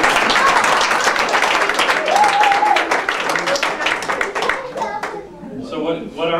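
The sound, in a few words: round of applause from party guests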